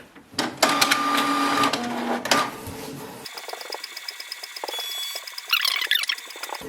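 A Canon Pixma TR4720 inkjet printer copies a document, running close up with loud mechanical whirring and clicks, then settling into a quieter, steady rhythmic hum of paper feeding and print-head movement.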